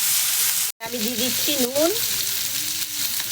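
Vegetables with eggplant frying in a pan for a curry, a steady broadband sizzle running throughout with a brief cut, while someone speaks briefly over it.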